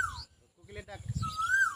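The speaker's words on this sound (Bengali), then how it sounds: "কোকিল ডাকছে কি সুন্দর করে।" An Asian koel's clear, rising whistled call sounds twice at moderate distance near a large tree, partly under nearby talking and low background noise.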